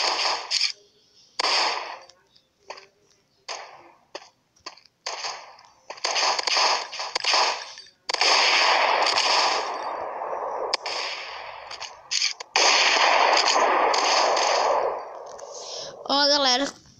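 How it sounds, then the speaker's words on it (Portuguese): Gunfire in the shooter video game Mask GU, repeated sharp bursts and single shots in quick clusters, loud and close, mixed with game noise and someone talking over the action. "Dei um headshot ali. Acertei o cara de primeira."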